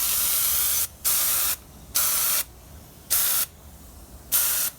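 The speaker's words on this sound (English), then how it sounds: "this is a water-based spray that is not harmful" Water-based spray from a can applied to a model float plane in short bursts: four to five distinct hissing sprays, each about half a second long, separated by brief pauses, close and fairly loud.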